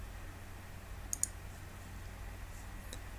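A couple of faint, quick computer mouse clicks in a quiet room, close together, then a softer click later, with a low background hum.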